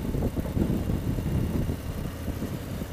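A 2018 Harley-Davidson Street Glide Special 115th Anniversary Edition V-twin idles in neutral, with a close, lumpy, loping low rumble and uneven pulses throughout and no voices.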